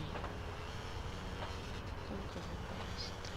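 Train in a video game: a steady, dense rumble of rolling rail cars at moderate level, continuous and unbroken, with faint higher clanks drifting over the top.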